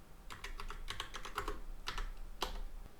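Quick bursts of typing on a computer keyboard, clicky keystrokes in short runs with pauses between, quiet and close.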